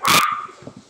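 A single sharp, loud dog bark rings out in a home kitchen, followed by a few softer muffled yips and rustles as it fades.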